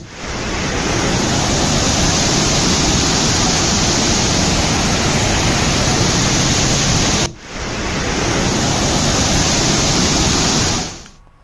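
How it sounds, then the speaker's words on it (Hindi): Water roars out of four or five dam gates, each opened about five feet, in a loud, steady, broadband rush that continues unbroken apart from one brief dip before it cuts off. "बांध के 4 से 5 गेट खोले गए हैं, जो कि 5-5 फीट खोलकर 5000 क्यूसेक पानी की निकासी की जा रही है।"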